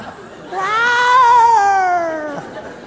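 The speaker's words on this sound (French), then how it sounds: "Il n'y a que des chats dans la rue." Cats in a street give one long, loud, wavering yowl that rises and then slowly sinks before it stops, with faint background murmur around it.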